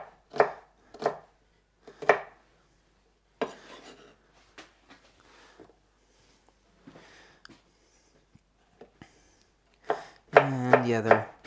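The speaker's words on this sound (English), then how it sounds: "And these other jalapenos I'm going to dice up." Knife on a cutting board dices jalapeno peppers with sharp, irregular chopping taps, some in quick clusters and some spaced apart, close and alone; a brief scraping or clattering sound ends the sequence.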